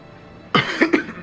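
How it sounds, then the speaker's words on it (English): A person coughs, a harsh first burst followed by two quick hacks, close and loud, with no talking. "I can't seem to get rid of this cough."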